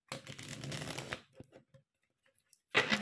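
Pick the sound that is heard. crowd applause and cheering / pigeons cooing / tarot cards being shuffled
tarot cards being shuffled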